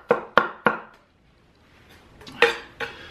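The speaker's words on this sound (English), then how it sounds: "we'll do a rough chop on the onions" A chef knife, a Serbian-style cleaver, roughly chops onions on a board: three sharp, evenly spaced thuds, a pause, then two more cuts, close and fairly loud with no talking.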